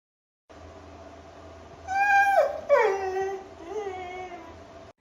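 Cartoon dog Luna whimpers and howls in a rising, drawn-out whine that bends and falls away, close and alone with no talking.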